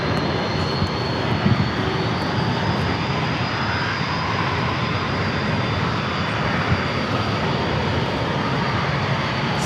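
Aircraft engines roar steadily at Los Angeles LAX airport, a loud continuous broadband rumble that holds for the whole stretch, with no speech over it.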